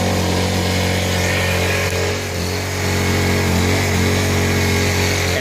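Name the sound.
Honda EU1000i generator engine running and surging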